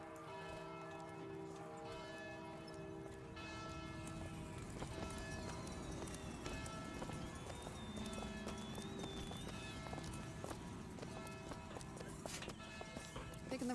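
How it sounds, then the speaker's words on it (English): Hooves clip-clop steadily at a moderate distance from a horse and cart in the video game Bioshock Infinite, over a constant hum of town ambience, with bell-like tones ringing in the background. "I don't think that horse and cart knows where it's supposed to go."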